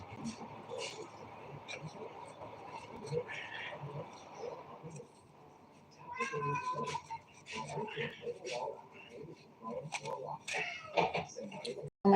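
Cats meowing indoors, several scattered meows and cries mixed with a person talking over them, the calls coming in bursts of varying loudness.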